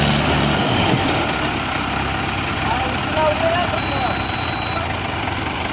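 A tractor stuck in a farm field runs with a steady, loud engine drone that holds without a break, while people talk over it.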